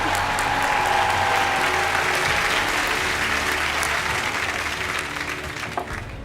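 Steady audience applause at the Britain's Got Talent 2020 final, loud and sustained throughout, thinning slightly toward the end.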